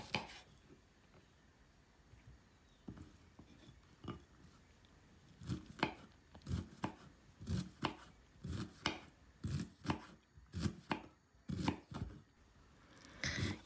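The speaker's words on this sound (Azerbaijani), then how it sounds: "Kələmi gördüyünüz kimi bu formada xırda-xırda doğrayıram" A knife chops cabbage finely on a board, a quiet start that builds into quick, regular crisp strokes, close and alone with no talking.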